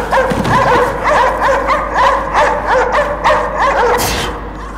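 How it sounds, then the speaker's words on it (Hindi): Dog barks and whimpers come in rapid yelping bursts from an in-game dog kennel in Cryostasis, an icebound ship setting, continuing steadily for several seconds with a sharper cry near the end. "ओए कुत्ते"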